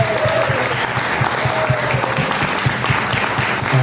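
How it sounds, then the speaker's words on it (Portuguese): A church congregation at a Tuesday prayer service claps loudly and steadily in a dense, sustained round of applause close to the listener. "se dê uma salva de palmas"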